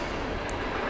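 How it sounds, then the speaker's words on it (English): A train passes on railway tracks beside a house, a steady broadband rumble and rattle that fills the second at constant loudness with no talk. "Sorry about the train. We live by train tracks."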